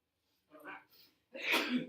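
A short breathy intake followed by a sharp, explosive sneeze, close and fairly loud, with a quiet pause between.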